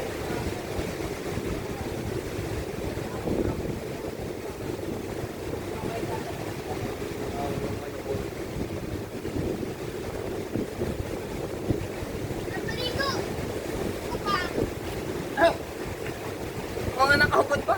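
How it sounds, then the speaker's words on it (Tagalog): Steady, roaring wind buffets the microphone over choppy water with big waves, with a few brief higher-pitched sounds breaking through near the end. "lakas ng hangin man"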